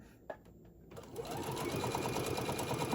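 Sewing machine stitching the side seams of a handmade stuffed bear body, starting after a brief quiet moment with a click and then running steadily and loudly with a fast even rhythm to the end.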